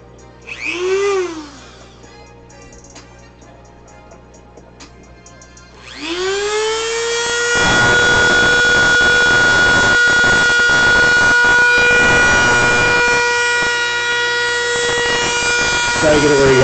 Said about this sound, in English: with a cutting disc. Good old Dremel tool, man.